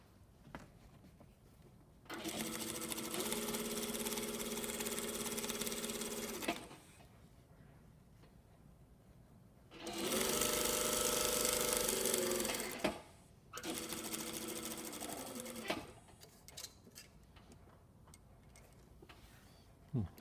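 A sewing machine stitches a shirt collar in three separate bursts of rapid, even stitching, each lasting a few seconds, with quiet gaps between them filled by faint handling noises.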